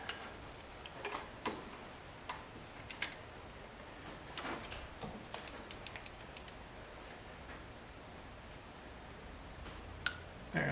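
A torque wrench set to reverse on a glow plug in a 2005-2010 Jeep Grand Cherokee WK CRD diesel with the OM642 engine, clicking in sharp irregular ticks that come in brief clusters over a quiet background, with no talk.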